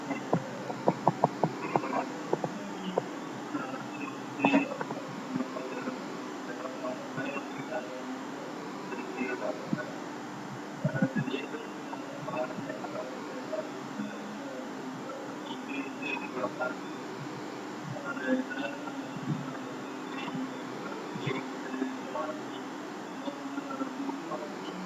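Looping game background ambience of croaking frogs and buzzing insects, steady and moderately quiet, with small clicks and blips scattered throughout.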